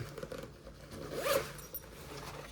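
A pocket zipper on an Eberlestock Bando Bag XL is pulled once, a quick close rasping zip in a quiet setting.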